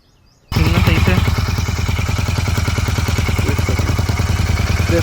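A Royal Enfield Continental GT 650 engine with a loose silencer starts up abruptly after a quiet moment, then runs loud and close at a steady idle with a rhythmic throbbing pulse and a rattling clatter on top.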